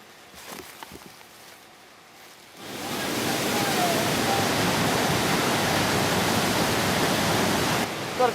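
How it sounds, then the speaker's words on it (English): After a quiet start with a few faint knocks, a loud, broadband rush of a waterfall suddenly swells up close and roars steadily for several seconds before easing slightly at the end. "we just got to get it over the waterfall somehow"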